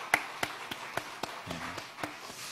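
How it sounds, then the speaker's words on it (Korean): Members of a church congregation clap their hands in a large worship hall, a handful of sharp, separate claps at an uneven pace with faint murmuring between them. "박수 한번 하셨으면 좋겠습니다"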